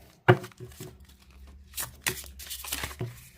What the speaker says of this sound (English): let's see how these cards shuffle.